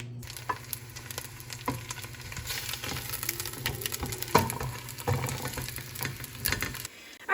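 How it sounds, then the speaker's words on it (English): Suet melting slowly in a pan over low heat for a homemade chicken treat gives a steady, moderately loud sizzle and crackle with small pops, continuous throughout and without talk. "So the first thing we're gonna do is melt our suet."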